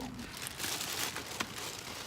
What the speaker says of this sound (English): get this giant plastic bag off of it